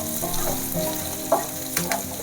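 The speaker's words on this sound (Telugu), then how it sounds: "ఫ్రై అయిపోయింది చూడండి మిర్చి" Green chilies fry in oil in a pan for sabudana khichdi, giving a steady close sizzle broken by a few small pops and spits.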